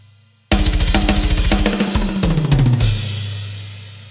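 A programmed drum fill from the GGD Invasion library plays loud and dense, with rapid kick and tom hits and cymbal crashes in a heavy rock style, then a crash rings out and decays.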